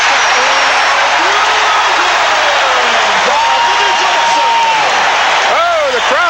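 Loud, roaring crowd at a 1984 Boston Celtics versus Detroit Pistons basketball game erupts and sustains a dense cheer throughout, with sneaker squeaks cutting through near the end.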